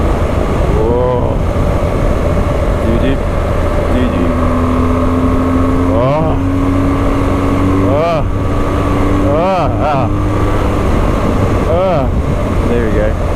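A BMW car driving on a coastal road, with a loud, steady engine and road drone inside the cabin and a brief rising tone as it dips, while people talk over it.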